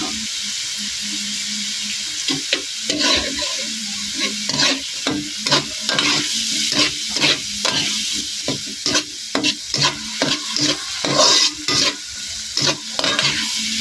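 Garlic fried rice is stir-fried with soy sauce in a hot pan, a steady sizzle broken by repeated scraping and tossing strokes of the spatula that quicken as the stirring goes on.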